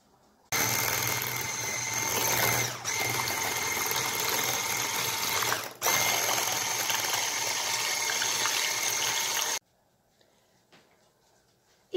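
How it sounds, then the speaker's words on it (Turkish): Labneh cheese and eggs are whipped for a börek filling with an electric whisk, giving a steady, loud, close motorized whirr that runs for about nine seconds and then cuts off abruptly. "Son olarak yumurtamı ekleyerek tüm malzemeyi çırpıyorum."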